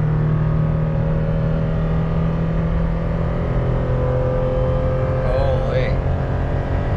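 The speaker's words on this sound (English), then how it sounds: "my foot is to the floor, making a lot of noise." A Toyota 4Runner towing a trailer at full throttle gives a loud, sustained engine drone with steady road noise from inside the cabin, a long unbroken roar without pauses.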